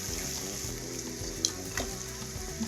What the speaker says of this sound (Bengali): মশলাটা দেওয়ার পর কিন্তু বেশ কিছু সময় ধরে মশলাটাকে একটু কষিয়ে নিতে হবে যেন কাঁচা গন্ধ না থাকে